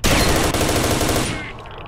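A shotgun blast in the video game S.T.A.L.K.E.R.: Shadow of Chernobyl, one loud close boom that rings out and fades over about a second and a half.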